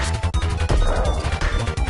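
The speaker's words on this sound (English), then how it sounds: "Okay, I think the bomb weapon works well here." Bomb weapon explosions in the SNES game Kirby Super Star boom loudly in rapid succession over a dense stream of game music and effects, with no talking.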